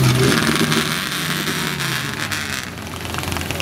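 Engine of a 1970 Dodge Challenger at a car show outside a shopping mall, loud and close, with a deep rumble that shifts as the car accelerates, no talk over it.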